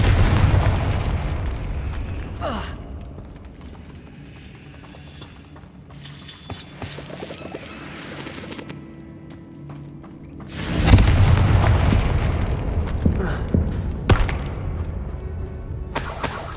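A Confringo spell explodes in Hogwarts Legacy with heavy booming blasts and shattering debris. One big burst lands near the middle and is followed by smaller crackling impacts and pops against low game ambience.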